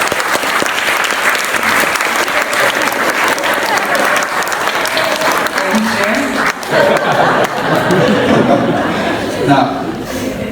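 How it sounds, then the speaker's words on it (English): Audience applause at a book launch, a dense, steady round of clapping that fills the whole stretch, with some chuckles and crowd murmur mixed in. "Give a big round of applause."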